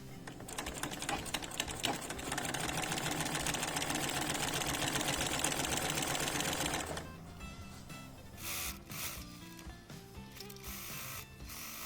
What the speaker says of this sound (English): I'm going to make the so-called stitch in the ditch, which is stitching exactly on the sewing line here